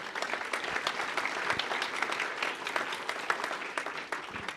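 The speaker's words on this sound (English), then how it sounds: "So a round of applause for Ashley, please." An audience at the 38th Prairie Preview breaks into sustained applause, a dense, even patter of many hands clapping that carries on steadily for several seconds.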